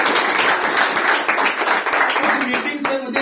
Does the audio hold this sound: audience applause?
yes